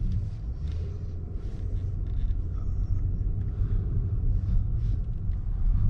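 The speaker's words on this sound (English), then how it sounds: "So we will be driving off now with the E8 cylinder beauty here." A 2021 Mercedes Maybach with a V8 engine pulling away, heard from inside as a steady, smooth low rumble of engine and road noise that stays even throughout, with no talking.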